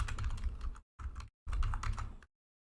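Rapid clacking of keys on a computer keyboard, close and crisp, in three bursts of quick typing separated by short silent pauses, with no talk over it.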